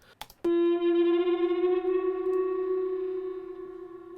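A sustained electric guitar feedback tone rings out after a few quick plucks, steady and bright, slowly fading over several seconds.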